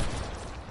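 Gunfire in a shooter video game, a short, loud, dense burst of rapid shots filling under a second.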